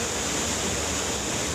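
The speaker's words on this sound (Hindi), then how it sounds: "हर तरफ हाहाकारी लहरें" Raging floodwater in Himachal Pradesh after heavy rain, a dense, loud, unbroken roar of rushing water filling the whole clip with no gaps.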